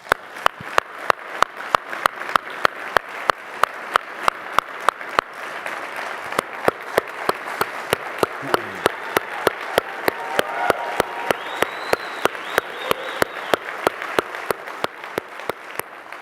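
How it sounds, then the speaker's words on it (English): Audience applause for Governor Polis at the 2025 National Governors Association summer meeting: sustained, even clapping from a large room at moderate level, with a regular ticking running through it. "let's give Governor Polis one more round of applause"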